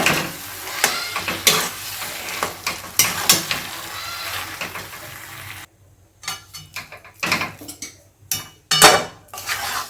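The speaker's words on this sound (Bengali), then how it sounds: "আলুটাকে মশলার সঙ্গে সুন্দর করে কষে নেব।" Potatoes are stirred with spices in a pan for aloo kochuri filling. A spatula clanks and scrapes against the metal in repeated sharp strikes, with a light sizzle underneath and a brief pause midway.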